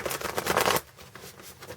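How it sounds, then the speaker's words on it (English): Tarot cards shuffled by hand in a quick burst of dense riffling and flicking, loud for about a second, then softer scattered card slides and taps. "give them one last shuffle before I pull"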